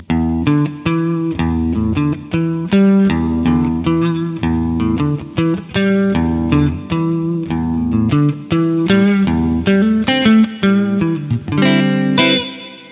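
Electric guitar played through TH-U Overloud amp and effects software on a mobile phone, chorus and reverb on, picking out a steady run of sustained, slightly overdriven notes and chords, loud and alone.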